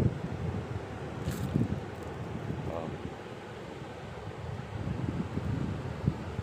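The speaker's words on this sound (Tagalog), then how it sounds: "Ito, mahangin dito o." Steady seaside wind buffets the microphone with a continuous low roar. A voice can be heard faintly underneath.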